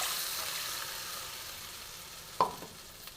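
Cow's milk poured into spice paste that has been fried until the oil separates, for a milk-and-fennel rohu fish curry; a soft steady sizzle runs throughout, with a brief louder splash and bubbling burst near the end.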